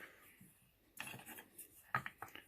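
Glue being pushed around inside a dowel hole in wood with a brush for a dowel joint: a quiet patch, then soft scrubbing and rubbing strokes with a few sharper taps near the end, close by.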